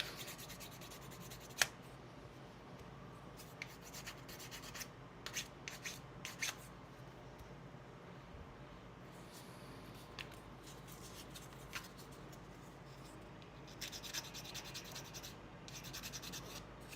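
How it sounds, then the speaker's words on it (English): Light, steady sanding of a small plastic Necron Ghost Ark model kit, a soft continuous rubbing and scratching heard up close and quiet, broken by occasional faint clicks and taps. "So much sanding."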